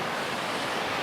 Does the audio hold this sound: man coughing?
no